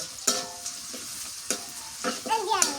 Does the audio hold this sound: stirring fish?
yes